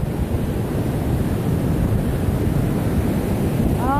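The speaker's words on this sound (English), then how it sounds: "look how big the waves are" Big ocean waves crash and wash onto a beach in a steady, loud, continuous roar, with wind buffeting the microphone throughout and no voices.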